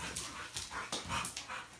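Dogo Argentino dogs at play pant and huff in quick bursts, with soft scuffles at close range.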